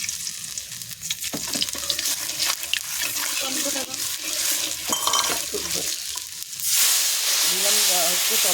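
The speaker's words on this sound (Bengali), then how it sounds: "দিয়ে দেবো একটু তেল, কালো জিরে আর রসুন সম্বার দেবো।" Black cumin and garlic tempering in hot oil in a pan, a loud continuous sizzle and crackle that flares into a brighter hiss near the end, with a voice talking over it.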